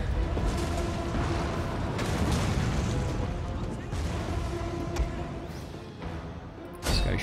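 Ranged units firing during a Rome Total War 2 battle, heard as a dense, continuous rumble of volleys and distant impacts that blends into battlefield noise, with a sharp crash near the end.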